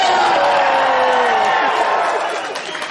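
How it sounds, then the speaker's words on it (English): Convention panel audience at New York Comic Con lets out a loud, sustained crowd cheer with whoops and yells, tapering slightly at the end. "Let's just do a really loud cheer for Resident Evil 6"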